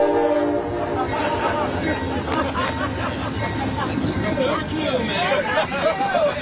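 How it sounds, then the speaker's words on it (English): A train rolls past an outdoor gathering in a warehouse district, its horn blaring at the start over the rumble of the cars while people talk and murmur nearby. "There's her favorite train going by right now."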